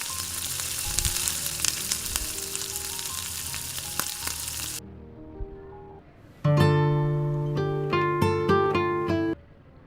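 Food sizzles and crackles steadily in a pan close by. Partway through, the frying gives way to a tonal melodic passage of music.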